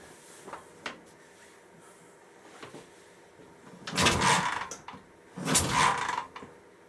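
A 1965 Triumph TR6 Trophy motorcycle is kicked over without starting. Light mechanical clicks come first, then two loud, rough bursts of engine compression chuffing from the exhaust, each lasting about a second, close by.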